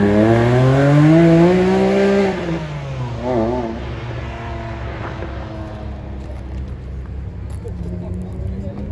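A Maserati GranTurismo Coupé revs hard and accelerates away near a Paris racecourse, its loud rising engine note peaking early and then fading as it passes into steady road noise, with voices chatting over it.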